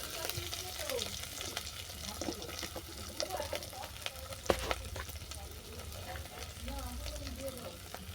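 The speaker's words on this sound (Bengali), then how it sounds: "এটাকে ভালো করে কষিয়ে নেব।" Spices sizzle and fry steadily in a pan for pumpkin chokka, with poppy-seed paste, turmeric and chilli powder in the oil. A soft, continuous crackle runs under a low hum, broken by an occasional sharp clink of a utensil.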